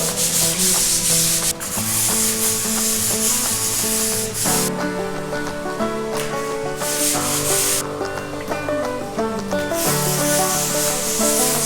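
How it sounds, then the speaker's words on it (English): A stiff brush scrubs foaming acid stain across a concrete garage floor, producing a loud, continuous, close rasping sweep that keeps up a steady back-and-forth rhythm with no talk. "You can see it's thicker and foaming. Give it a scrub."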